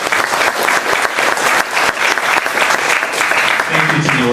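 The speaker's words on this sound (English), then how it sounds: "Everyone give a round of applause for the other sponsors." An audience at a developer talk applauds the event sponsors, the clapping dense, loud and steady throughout, with a voice starting to speak right at the end.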